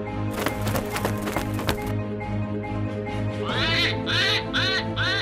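A cartoon duck quacks in a series of rapid, nasal calls near the end, preceded by sharp cracking hits and over steady animated background music, with no talking.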